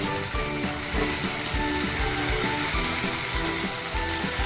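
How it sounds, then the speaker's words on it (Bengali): Spice paste for an Indian chicken kofta curry frying and being stirred in a pan, a steady dense sizzle with soft rhythmic scraping strokes throughout, close and fairly loud, no voices. "মশলাটাকে কষাবো, যেন মশলার যে কাঁচা গন্ধ সেটা না আসে।"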